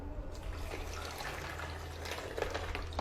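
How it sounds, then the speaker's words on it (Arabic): Water is poured into a blender jar along with ice, a soft continuous trickling and splashing, heard close by at low level for a few seconds with no talk. "وهنزل بس بشويه ميه علشان نمشي الخلاط"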